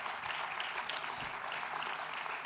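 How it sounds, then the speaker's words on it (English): Audience at a Paris innovation conference applauding steadily throughout, a dense even wash of clapping from a sizeable crowd, moderately distant and without a break. "j'aimerais que vous applaudissiez très fort Karin"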